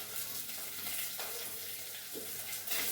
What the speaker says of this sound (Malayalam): ബാക്കി സവോള ചേർത്ത് വഴറ്റുന്നു.